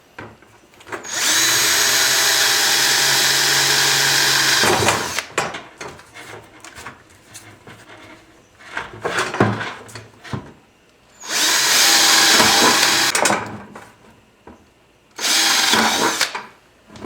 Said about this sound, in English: now that you have your holes drilled for the large amounts of air circulation